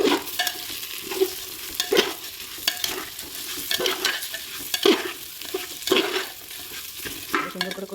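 Peas, salt, turmeric and split green chillies sizzle in a hot pan, with a spoon scraping and stirring in a steady rhythm of soft clinks over the constant frying hiss.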